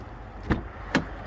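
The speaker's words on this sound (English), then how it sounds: "Open the door." Two short, soft mechanical clunks sound about half a second apart as the door of a 2020 Infiniti Q50 is unlatched and opened, fairly close and quiet, with no one speaking.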